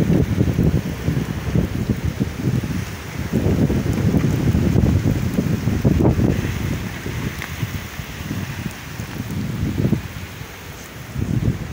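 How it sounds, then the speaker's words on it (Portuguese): Strong gusting wind during a heavy afternoon storm on a rural smallholding in Uruguay, roaring and buffeting the microphone in loud continuous surges with no voices. "Agora o vento é grande, gente."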